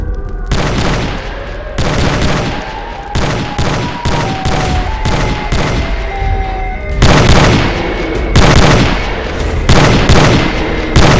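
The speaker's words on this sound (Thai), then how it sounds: "ยิงยิงมันเลย" Loud, rapid bursts of gunfire ring out while a monster is shot at in a horror video game, with repeated heavy volleys in clusters and a few brief pauses between them.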